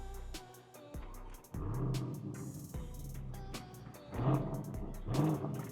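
A Lamborghini Urus Performante SUV fires up with a sharp starter burst and then a deep throaty idle that swells in short revs, close and loud.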